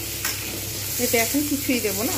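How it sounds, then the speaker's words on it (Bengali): Potatoes frying in oil for a long bean and potato curry give a steady sizzling hiss, while someone talks briefly over it. "এইবার আমি এর মধ্যে দিয়ে দেবো আলুগুলো। আলুগুলো যতক্ষণ পর্যন্ত না সুন্দরভাবে ভাজা হচ্ছে আমি ততক্ষণ পর্যন্ত কিন্তু অপেক্ষা করবো।"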